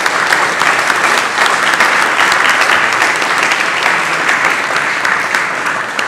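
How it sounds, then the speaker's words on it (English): A packed audience at a Fresh Cafe event on homelessness in Hawaii claps in a loud, dense, unbroken round of applause that stays steady for several seconds. "Big round of applause, everybody."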